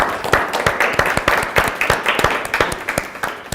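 An audience claps for departing visitors at a roundtable gathering, a steady round of moderately loud, close applause of many hands lasting a few seconds.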